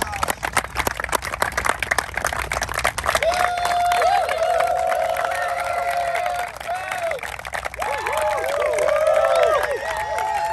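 An outdoor crowd applauding and cheering at a men's gathering, with continuous clapping, whoops and shouted voices rising and staying loud throughout.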